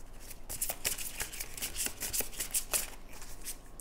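Oracle cards with a slick, gliding finish are shuffled in quick, soft riffling bursts, faint and close, with no talking.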